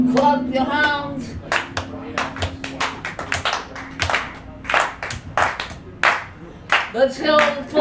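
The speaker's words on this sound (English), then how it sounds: "Clap your hands." Hands clapping in a steady rhythm, about a dozen sharp, close claps with a spoken voice over the first moments.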